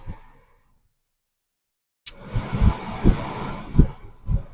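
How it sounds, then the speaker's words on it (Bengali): After a brief silence, a strong rush of air from a car AC's vents starts abruptly as the fan speed is raised and continues loudly, with a few low thumps beneath the airflow. "এখন অনেক জোরে হাওয়া আসতেছে এসি এয়ার ভেন্টস হয়ে।"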